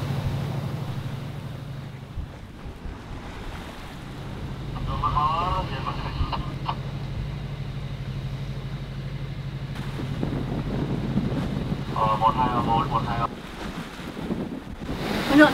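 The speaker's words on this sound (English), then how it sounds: "staysail is really tight but it's still flapping, it's just on that edge there" A sailboat's tight staysail flaps in strong wind at sea, a rough broadband roar of wind and waves with periodic fluttering bursts, held steady and fairly loud throughout.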